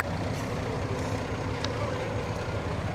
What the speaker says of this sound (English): We've got 3 dump trucks, a grader, and a loader.